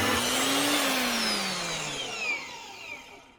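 A VEVOR portable bandsaw cuts through metal, giving a steady loud whine with a sliding pitch, then tapering off as the blade finishes the cut and winds down.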